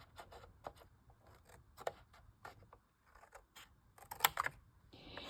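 Scissors snip a paper tab off a piece of scored card: a string of quiet, close clicks and crisp cuts with small rustles of paper between them.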